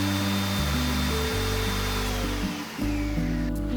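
Ninja Foodi blender grinding almonds into almond butter, a loud motor whine that shifts pitch in steps as the load changes, with a brief dip and restart partway through, no speech.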